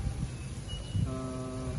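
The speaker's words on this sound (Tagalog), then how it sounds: "Dalawa pala busina nito eh" A short, steady electronic e-bike horn tone sounds partway through, held for under a second over a low background rumble.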